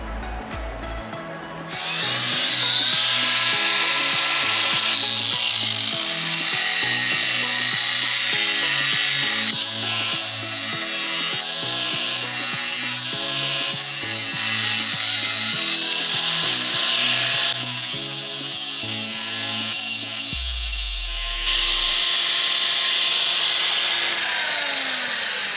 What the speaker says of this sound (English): My dad is gonna help me cut it with a grinder.